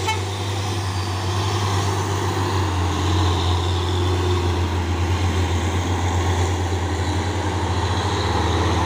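A Euro 4 container trailer truck from Dino Jember idles with a steady, loud low rumble and hum that holds without a break, close by and unaccompanied.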